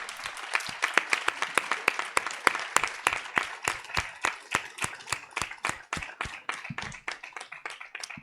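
An audience at a research congress inauguration claps for an honoree, a smaller group producing sharp, distinct hand claps in a quick, uneven rhythm, close and clear, gradually thinning toward the end.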